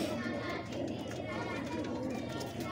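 A pigeon coos softly and continuously, a low murmuring bird call near the listener with background chatter and someone talking over it.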